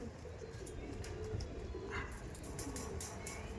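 Andhra pigeons coo softly in low, intermittent phrases amid a noisy backdrop, with scattered faint clicks and chirps around them.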